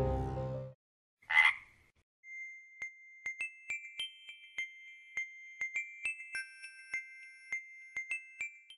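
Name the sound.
frogs croaking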